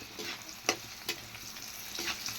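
Taro root stir-fried in a pan, a soft steady sizzle broken by a few sharp spoon scrapes, quiet and close with no voices.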